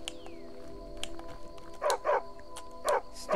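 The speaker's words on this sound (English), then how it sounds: "Dog, come back here." In the video game Skyrim, a dog barks in a few short yips, two quick pairs close together, over a faint background hum and scattered clicks.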